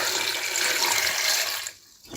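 Close, steady splashing rush of water poured into a pot of dates for date jam, running continuously for almost two seconds before cutting off.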